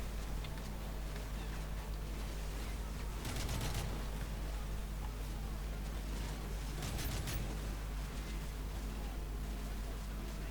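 Gunfire in the Call of Duty Modern Warfare 3 singleplayer campaign: dense bursts of shots and blasts over a constant noisy battlefield din, with two stronger volleys standing out.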